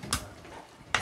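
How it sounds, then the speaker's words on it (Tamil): A spoon scrapes and clinks twice against a cooking pot as country-chicken biryani is stirred and mixed, with brief metallic knocks and soft shuffling in between. "எல்லாம் நல்லா மிக்ஸ் பண்ணி விட்டுக்கோங்க."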